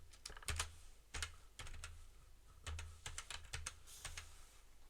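Keystrokes on a computer keyboard as a password is entered during a Windows 11 setup, arriving as several quick bursts of clicks with short pauses between them, faint and close with no talking.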